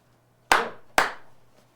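Two sharp hand claps about half a second apart, used to sync sound and picture after an interview, each crisp and close with a short decaying tail in an otherwise quiet room.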